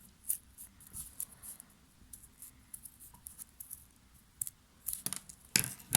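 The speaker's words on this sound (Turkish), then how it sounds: "gördüğünüz gibi dikkatli bir şekilde kesiyorum" Scissors carefully cutting paper for kirigami, with quiet, close snips and crisp rustles at an uneven pace, louder toward the end.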